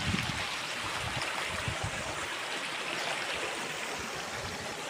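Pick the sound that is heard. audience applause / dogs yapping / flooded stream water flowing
flooded stream water flowing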